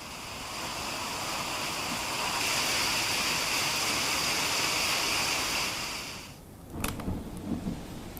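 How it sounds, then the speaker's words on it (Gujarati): Heavy unseasonal rain pours down with strong wind, a dense, continuous roar that swells and then eases before a few sharp gusts and rattles near the end. "આણંદમાં ભારે પવન સાથે કમોસમી વરસાદ વરસ્યો છે।"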